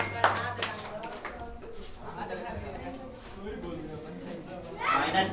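Scattered hand clapping from a crowd comes through beneath steady chattering voices, swelling into a louder burst of applause at the end.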